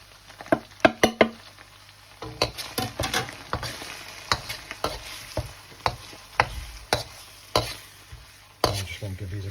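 Ground spices including cumin, coriander, chili powder and turmeric frying in a pan for a chicken curry marinade, stirred with repeated sharp scrapes and knocks over a soft sizzle, close and without talk.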